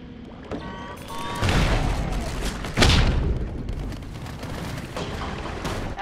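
Muffled underwater bangstick blasts in the shark game Depth, a broad boom near 1.5 s and a sharper, louder one near 2.8 s, set in a murky wash of water ambience.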